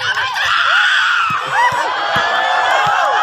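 Volleyball players and spectators shout and scream loudly in a rousing burst during a match between Sukarami and Keranji, with overlapping excited voices and a few sharp thuds underneath.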